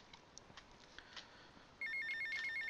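A payphone rings in the GTA Vice City video game, its electronic trill starting abruptly after a low background hum and continuing steadily to the end.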